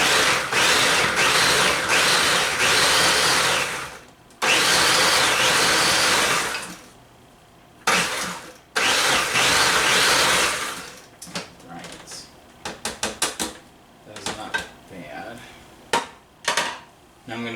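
A blender pulses tomatillos in bursts: a long loud whir, then another, a short jab, a longer run, and a rapid string of brief choppy pulses as the chunks break down, with pauses between.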